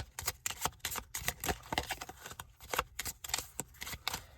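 Eight cards from the At the Helm deckbuilding card game being shuffled close up: quick papery riffles and flicks repeating in bursts, with no voices.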